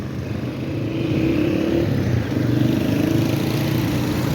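A Speedo bus engine drones and swells as it approaches along a busy night street, a steady mid-pitched motor growl rising slightly, with no voices.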